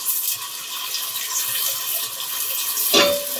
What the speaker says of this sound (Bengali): দিচ্ছি পানি, না হলে মশলাটা পুড়ে যাবে।